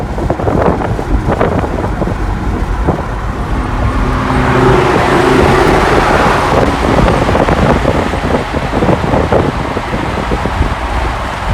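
A Ferrari sports car drives fast with a loud, continuous engine roar that rises and swells midway, heavily blended with wind rush and road noise.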